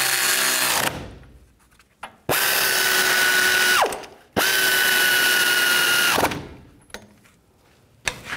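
A power tool runs in two sustained, loud bursts of about two seconds each with short gaps between, driving caliper bracket bolts on a 2007-2014 GMC Sierra 3500 HD, close up, with brief clicks before and after.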